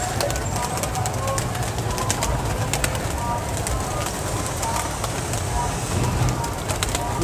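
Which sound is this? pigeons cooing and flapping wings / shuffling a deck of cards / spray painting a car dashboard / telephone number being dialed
pigeons cooing and flapping wings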